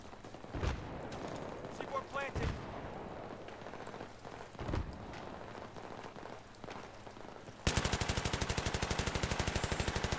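An M249 machine gun fires in a video game. Scattered shots come first, then a rapid sustained burst of evenly spaced rounds near the end, with a voice heard in the clip.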